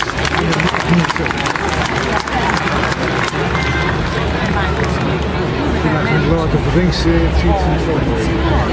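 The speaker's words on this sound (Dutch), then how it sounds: "En uw applaus graag voor Stuyvesant" Crowd applause and cheering at an outdoor exhibition-ground parade for the Ghost Riders of Stuyvesant, loud continuous clapping mixed with crowd babble and a low rumble.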